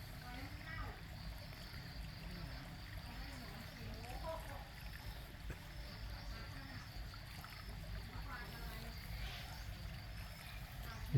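A small waterfall overflows in a garden frog pond holding guppies, a constant close trickling and splashing of water that holds even and unbroken from start to finish.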